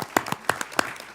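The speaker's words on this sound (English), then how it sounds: "Are we allowed to clap in the hearing room? I think we should clap." A few people clap in a congressional hearing room, sparse separate claps at an uneven pace, close and distinct against a quiet room.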